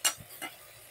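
Washed rice tipped into hot oil tempering in a pan for a Marathi-style rice and brinjal dish, giving a brief scrape and sizzle followed by a second soft stir.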